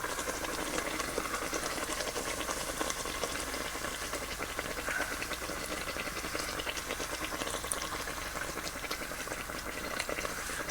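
Beaver tail dough fries in hot oil at home with a steady, dense crackle and bubbling hiss that runs on without pause, close and unbroken by talk.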